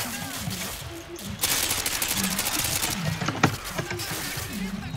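Gunfire in a Modern Warfare 2 campaign firefight, dense bursts of automatic shots and crackling rounds that keep going close by, with speech heard underneath.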